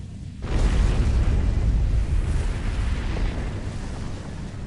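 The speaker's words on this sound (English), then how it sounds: "That was a glorious explosion!" An enemy ship explodes in the space video game Star Trek Online, a sudden loud rumbling blast that swells after a brief lead-in and keeps roaring for several seconds, with no speech.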